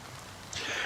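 Soft falling rain in Honkai Star Rail, faint and steady at first, then swelling into a brighter hiss partway through, with no talking.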